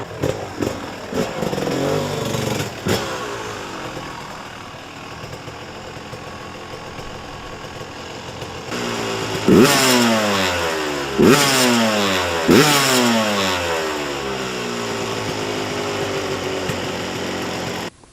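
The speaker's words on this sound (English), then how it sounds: "You can't beat the YZ250 motor. This thing hauls ass." A 1998 Yamaha YZ250 two-stroke motorcycle engine runs loud and close, idling with a raspy crackle before three sharp revving blips that rise and fall in pitch, then settling back to a steady idle.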